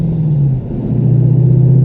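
A 2014 Dodge Challenger accelerating, its engine a loud, close, steady low rumble that dips briefly and then rises again as the car pulls away.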